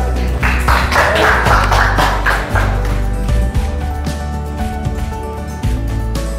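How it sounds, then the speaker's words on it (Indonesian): Classroom applause for a student group at the start of their presentation, a dense burst of many hands clapping near the front that carries steadily through the moment before thinning out. "Tepuk tangan untuk kelompok 3."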